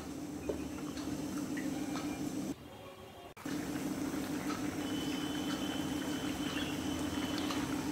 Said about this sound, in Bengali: ঝোল ফুটে গেছে এবং ঝোলটা খুব অনেকটাই কমে এসছে